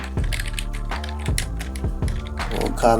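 Fingers tapping out a short phrase on a computer keyboard, a quick uneven run of close, crisp key clicks and clacks with brief pauses between words.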